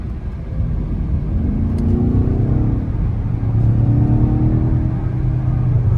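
A 2023 BMW XM plug-in hybrid of over 600 horsepower accelerating, with a steady deep engine rumble and rising tonal whine heard from inside the car, continuous throughout.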